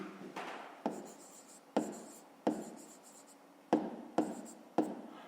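Pen strokes on paper while a fifth-grade maths exercise is worked out, a series of soft scratching bursts with sharp onsets, close and quiet, no voice over them.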